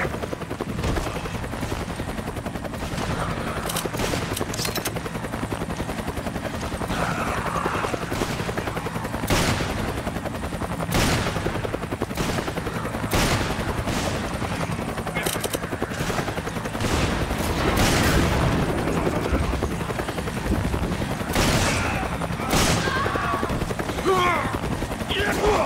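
Gunfire in the PS4 game Resident Evil 5 Versus: repeated sharp shots and bursts cut through a steady, droning rumble of game ambience, with spoken voices now and then over the action.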